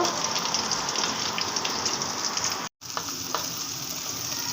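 Potatoes frying in oil produce a loud, steady, hissing sizzle, broken by a brief moment of complete silence, then sizzling again.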